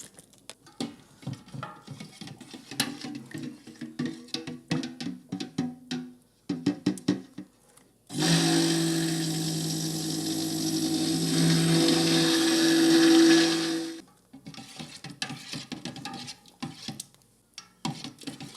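A handheld stick blender whirs steadily for about six seconds as it mixes soap batter with added May Chang essential oil, loud and continuous between quieter stretches of handling clatter.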